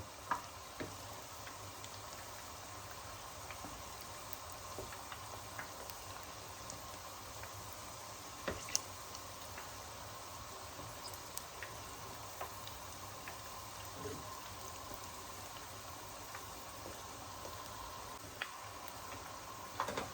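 Arancini deep-fry in hot oil with a quiet, steady bubbling hiss and occasional faint ticks and pops, with no voices.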